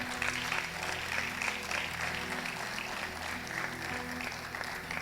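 A church congregation applauds during a sermon, steady dense clapping from a crowd over a low hum for several seconds.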